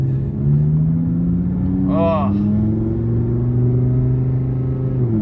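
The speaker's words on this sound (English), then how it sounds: "Just listen to that engine" An Audi R8 Competition's V10 engine drones steadily at low throttle around town, a loud, smooth hum with slowly rising pitch, briefly interrupted by a man's short exclamation.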